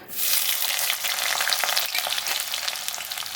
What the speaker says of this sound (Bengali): একটু বানিয়ে নেবো বেরেস্তা